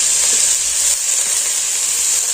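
Chopped tomato hitting a hot pan for egg masala pasta, giving a loud, steady sizzle and hiss that holds evenly with no talk.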